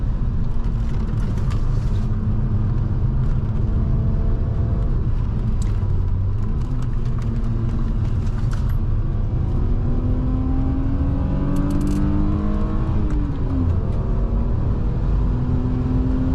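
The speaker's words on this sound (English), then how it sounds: "Love the sound of a BMW V6." BMW E36 323i Touring straight-six on street tires lapping the Nürburgring GP circuit, a loud in-car engine drone with repeated rising revs through the gears and brief dips at shifts.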